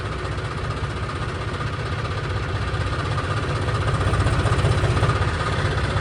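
A tractor engine idles in a constant low, rumbling drone that swells slightly midway, steady and close with no talk over it.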